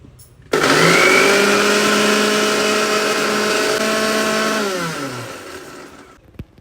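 A kitchen blender coarsely grinds batter, leaving it slightly chunky, with a loud steady motor whir that starts abruptly, holds for about four seconds, then winds down as the motor slows.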